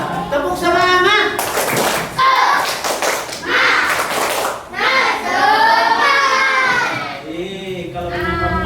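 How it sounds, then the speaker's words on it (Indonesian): Children in an Indonesian classroom perform a rhythmic spirit clap (tepuk semangat), loud sharp hand claps in patterned bursts mixed with children chanting and a teacher's voice. "Tepuk semangat."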